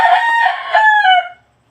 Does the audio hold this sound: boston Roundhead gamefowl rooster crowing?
yes